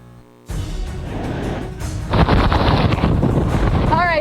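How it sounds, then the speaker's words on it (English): Hurricane Laura's landfall brings a roaring, buffeting rush of wind gusts that batter the microphone, loud and continuous with surging peaks and a faint squeal near the end. "we've had winds officially gusting here to 81 miles an hour"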